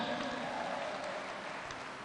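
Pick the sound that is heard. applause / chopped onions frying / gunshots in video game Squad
applause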